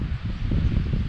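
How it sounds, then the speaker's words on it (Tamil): Strong wind buffets a hilltop viewpoint in Idukki, Kerala, a steady low roaring rumble that pounds the microphone continuously and fairly loudly, with no voices. "காத்து சும்மா அப்படியே தள்ளுது மனுஷனா, அந்த அளவு காத்தடிக்குது"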